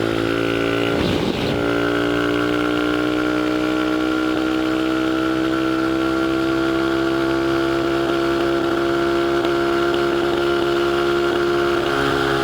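A Dax 125cc Toro motorcycle cruises in fourth gear at about 70-80 km/h, its engine holding a loud, steady droning tone close by with wind buffeting and a slight pitch rise after a brief throttle change.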